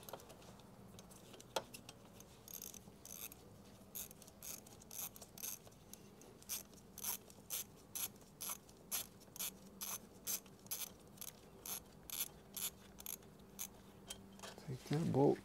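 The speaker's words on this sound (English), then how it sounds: "Take that bolt completely out." A ratchet wrench backs a bolt out of a motorcycle fairing during an exhaust install, producing fast bursts of crisp, close clicking that repeat steadily in quick strokes.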